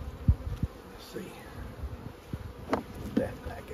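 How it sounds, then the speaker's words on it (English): Honey bees from a spring swarm buzz around frames during a swarm catch, a soft, steady hum with a few sharper thumps and bursts, while a voice murmurs faintly now and then. "so bees are getting on them"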